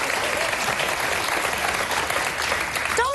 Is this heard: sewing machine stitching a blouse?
no